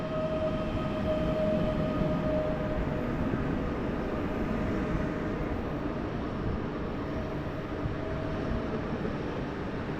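A PESA DART ED 161 electric multiple unit pulls out of Warszawa Zachodnia station in icy winter conditions, a steady broad rumble with a faint high whine, sustained and fairly close with no voices.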